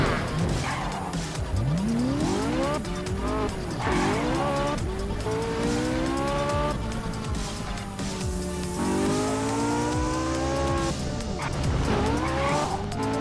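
A car with nitro in the Gangstar Vegas video game races along, its engine note rising and falling through repeated revs while tires squeal and skid, loud and continuous.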